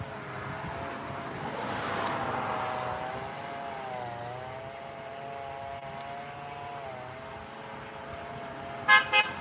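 Car horns from passing traffic give a long, wavering toot over steady road noise and engine hum, then two short, sharp beeps near the end, with no talking.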